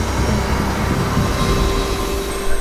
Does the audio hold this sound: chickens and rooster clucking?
no